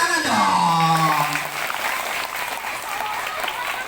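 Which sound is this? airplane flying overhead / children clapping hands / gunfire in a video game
children clapping hands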